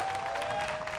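A disc golf tournament crowd applauds a birdie, a brief burst of steady clapping heard at a moderate distance, with a faint tone running underneath.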